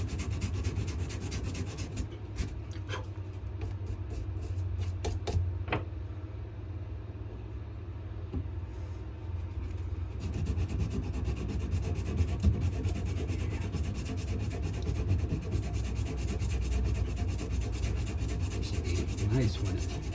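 Sanding sticks rubbing back and forth along a dark wooden knife handle, a steady close rasping scrape that runs throughout with short pauses and a faint low hum underneath.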